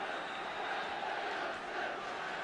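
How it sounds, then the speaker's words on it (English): A football crowd at Stamford Bridge roars in a sustained, rowdy swell during a 1976 Second Division match between Chelsea and Wolves, the noise broad and continuous with no clear break. "that's got the crowd going. Tremendous atmosphere at Stamford Bridge."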